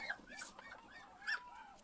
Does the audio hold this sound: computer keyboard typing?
no